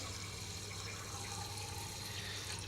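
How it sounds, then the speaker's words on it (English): Distilled water poured to top up a volumetric flask during a neutralisation titration practical, a steady close rushing fill of liquid lasting throughout without pause. "now top this up using distilled water"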